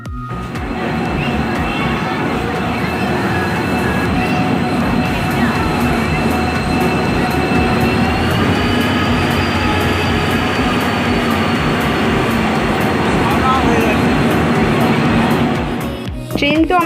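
The Tamralipta Express on the Howrah–Digha route pulls into a station with a loud, continuous rumble of wheels and carriages and a thin steady squeal running throughout, while voices murmur beneath.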